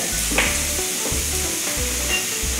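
Onion sautéing in hot oil, loud close sizzling with quick scraping stirs of a spatula repeating every half second or so over a steady frying hiss.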